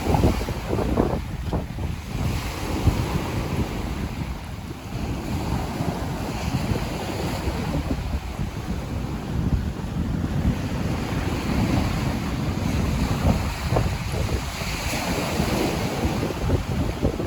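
Rough sea waves wash continuously at a fishing spot on the shore, a dense roaring surf mixed with buffeting wind noise against the microphone.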